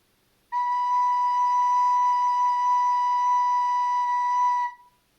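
A single sustained recorder note played with the back hole and first hole covered, a steady clear pure tone held for about four seconds, close and fairly loud, alone with no talking.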